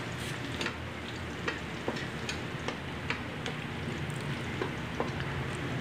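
Salmon head stir-frying with garlic in a pan until golden brown, a steady close sizzle with scattered ticks and clicks of stirring running evenly throughout, no voices.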